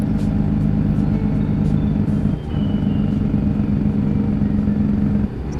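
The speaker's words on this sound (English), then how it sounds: "Slow the engine down a little bit as we come through town here" Steady droning truck engine in American Truck Simulator, a loud continuous low hum with a brief dip and shift in pitch midway, then another drop near the end, no talking.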